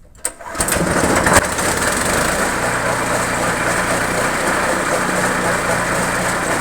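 A gasoline engine on a homemade branch chipper kicks into life after a sharp start and runs steadily, loud and close, a rough buzzing drone that holds without letup.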